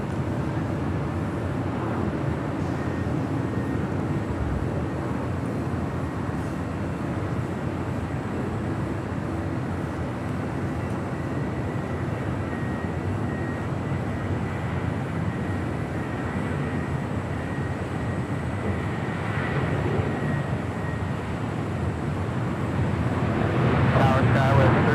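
A Lufthansa Boeing 747 lands at Los Angeles International Airport, heard as a steady, distant jet roar that holds for the full span and swells slightly near the end, with talk at times over it.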